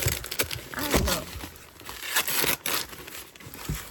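Wrapping on a scrapbooking decoration package is handled and opened up close, with bursts of irregular crinkling and crackling, a few tearing rustles and brief pauses throughout.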